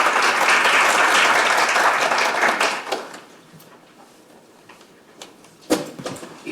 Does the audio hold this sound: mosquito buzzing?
no